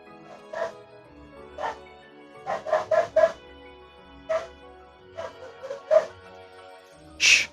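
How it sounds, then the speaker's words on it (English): Many dogs bark loudly outdoors in clustered bursts of yips and barks, some overlapping, with short pauses between volleys; voices are faintly present. "Loud dogs. Oh my god, there's a lot of them outside."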